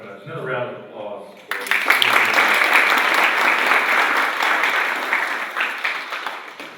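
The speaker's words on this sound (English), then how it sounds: "Another round of applause" Sustained audience applause at a poetry café event bursts in loudly after a brief spoken lead-in and holds steady, a dense wash of clapping from a full room.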